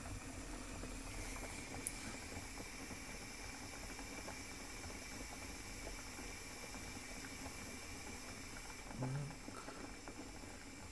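Potatoes simmer in a pot on a gas stove, giving a soft, steady bubbling hiss at low volume, with a brief clink near the end.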